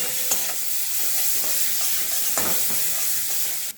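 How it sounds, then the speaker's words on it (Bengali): Chicken mince is stirred with spices in a frying pan, giving a close, steady sizzle broken by repeated scraping strokes of a spatula for a quick evening sandwich filling, with no one speaking. "এবার সব মশলাটার সাথে চিকেন কিমাটাকে খুব সুন্দর করে মিশিয়ে নিতে হবে।"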